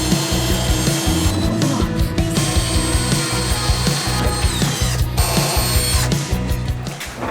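A router cutting into the back of a wooden wall panel while building a recess in a camper van wall, giving a loud, steady buzzing whine with rough, fluctuating cutting bursts throughout, with no talking.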